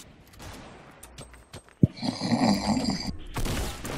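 Gunfire in a first-person shooter video game, a sharp shot followed by a dense burst of rapid automatic fire and clattering effects, loud and close, with no talking.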